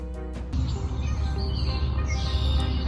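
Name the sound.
migratory birds calling at Lake Poyant at sunset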